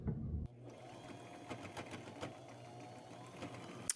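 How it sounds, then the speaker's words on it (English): A sewing machine running a medium zigzag stitch along a pinned fabric edge, a quiet rapid mechanical chatter that starts after a short handling noise and runs steadily to the end. "I'm going to sew them. I will stay fairly close to the edge with a medium-sized zigzag stitch."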